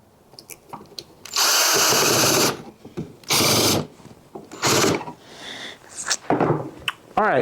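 A cordless power drill drives screws into a homemade wooden table base, its loud close whir coming in separate bursts of roughly one second with short pauses and small handling clicks between them.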